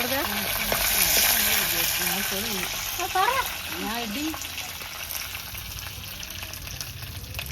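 Curry leaves frying in hot oil in a pan, a steady broadband sizzle and crackle running throughout, with a person talking over it at close range.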